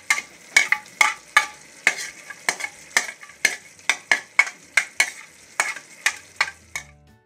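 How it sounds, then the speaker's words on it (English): Pre-boiled lentils stirred into cooked mutton in a pot for daal gosht make a regular series of wet scraping strokes, about two per second, fairly close and with no talk over them. "Now that our meat is fully cooked, we're going to add our pre-boiled lentils"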